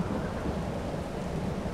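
Steady rain and rolling thunder in Farming Simulator 22, a dense continuous hiss of falling rain over a low rumbling roar, with no voices.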